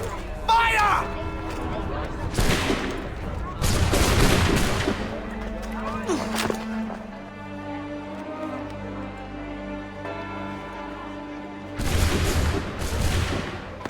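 Soldiers' musket volleys in Assassin's Creed III erupt as loud broadband bursts near 0.5, 4, 6.5 and 12 seconds, with crackling rolls between them over a low rumbling game score, and voices shouting in the clip.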